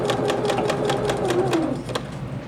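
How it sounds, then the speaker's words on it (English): A Janome computerized sewing machine stitches slowly with a black button leveling foot, giving a steady, close, mechanical whirring patter of needle strokes that runs throughout with no talk. "you're just going to guide the material now, and then sew. You can sew slowly,"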